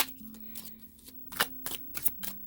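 Tarot cards being shuffled by hand in a series of quick riffling bursts, close and fairly loud, with short pauses between the shuffles and a faint steady hum underneath.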